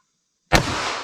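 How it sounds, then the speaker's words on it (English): A single sharp, loud crack from a 9mm pistol with a 5-inch barrel firing full metal jacket ammunition, heard once after silence, with a brief ringing decay. "let's see what we get from our 5-inch pistol with our full metal jacket."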